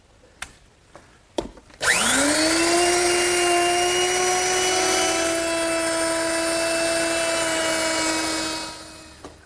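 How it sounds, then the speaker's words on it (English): A handheld router fitted with a 1/2 inch round-over bit rounds the edge of a wooden armrest for an English garden bench. A few faint clicks come first, then the motor spins up to a loud, steady whine and holds for about seven seconds before winding down. "I'll simply use my router, which is set up with a 1/2 inch rounding over bit"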